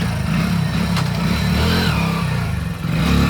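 A motorcycle engine runs steadily and close by with a low, throbbing drone and some revving, in a Gujarati comedy scene about someone learning to ride a bike.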